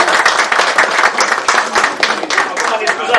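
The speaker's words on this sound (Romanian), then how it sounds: "să-l aplaudăm încă o dată" Audience at a town council meeting in Slanic Moldova applauding, a dense steady burst of clapping from many hands filling the room for a few seconds, close and loud.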